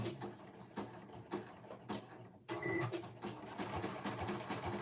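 A home sewing machine stitches with its stitch length set to about 2.4, running in a few short bursts that pause between runs before a longer steady stretch of mechanical whirring close by.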